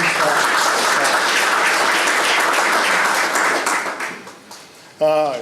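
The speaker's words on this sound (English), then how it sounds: "Give these guys a round of applause." A crowd applauds loudly and steadily for several seconds at a building plaque award ceremony, the clapping fading out before a voice briefly speaks at the end.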